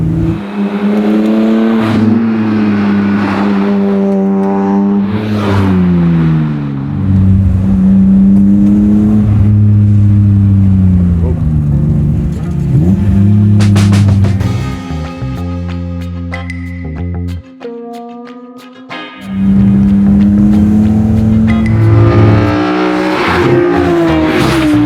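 BMW E30 with a swapped S54 engine drives and revs hard from inside, the engine note climbing and dropping through repeated gear changes, loud and close, with a brief lull before accelerating again.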